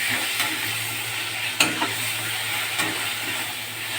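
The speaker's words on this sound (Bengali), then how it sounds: "দিয়ে আমি একটু মশলাটা ভাজছি ভালো করে" Ground spices (chilli, salt, turmeric, chaat masala) frying in hot oil for mutton keema ghugni, a loud steady sizzle with a few sharp scrapes of stirring against the pan, close up and without speech.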